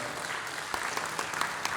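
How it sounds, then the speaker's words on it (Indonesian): A church congregation applauds during a Christmas service, a steady wash of many hands clapping at moderate distance, sustained throughout. "Berikan tepuk tangan buat Tuhan yang baik."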